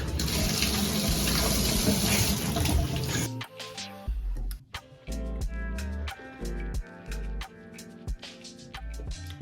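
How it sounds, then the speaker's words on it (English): Shower water runs loud and steady for a few seconds, a dense continuous hiss, then cuts off and gives way to music. "I'm gonna go shower"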